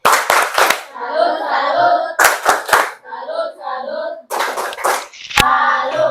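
Children in a classroom perform a patterned clapping routine, bursts of quick sharp claps in short clusters separated by chanted group voices, close and loud, repeating three times.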